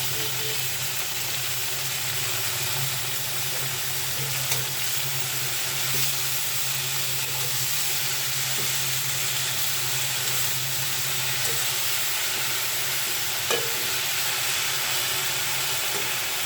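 Finely chopped thankuni (Asiatic pennywort) leaves fry in a pan with a loud, even, continuous sizzle and hiss close by, broken only by a few faint utensil taps.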